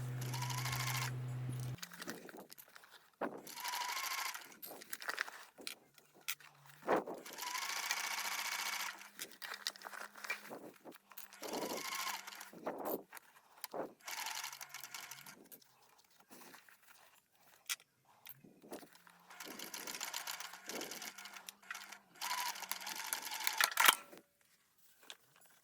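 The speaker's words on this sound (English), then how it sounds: "Work slowly as you sew through the multiple layers at the strap connectors and gusset seams" Sewing machine stitching slowly through multiple layers of a crossbody bag at strap connectors and gusset seams, in short bursts of quick mechanical whirring and clicking separated by quiet pauses, close and fairly soft, with no talk.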